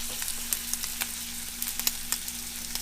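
Turkey bacon fries in a pan with a line of agave syrup on it, a quiet, steady sizzle broken by scattered sharp crackles and pops over a low hum.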